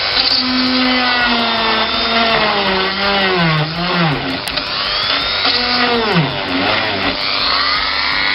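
An electric drill bores out the rivet posts of an old Corgi die-cast Plymouth Sports Suburban model, a close, steady high whine whose pitch sags and rises as the bit bites and eases, with no talk.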